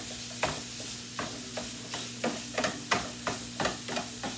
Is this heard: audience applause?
no